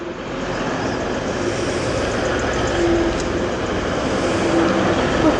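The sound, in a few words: Class 185 TransPennine Express train approaching at Barnetby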